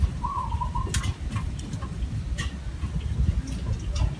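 A short coo from a racing pigeon in a derby loft, heard early and faint, with scattered clicks and sharp ticks over a steady low rumble of background noise.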